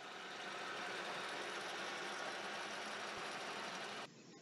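A metal lathe cuts steady and hard while taking a heavy chip, giving a continuous dense grinding whir at even level that drops off sharply near the end.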